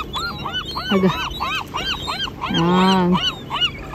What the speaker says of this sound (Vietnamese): chim biển